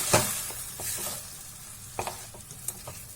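A spoon stirs salted tomato masala in a hot pan for paneer butter masala, with soft sizzling throughout and a few sharp scraping clicks of the utensil against the pan.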